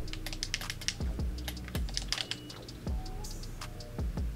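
Keys on a computer keyboard are tapped in short bursts while entering a search-bar query, giving close, crisp clicks in an irregular rhythm with soft thumps between them.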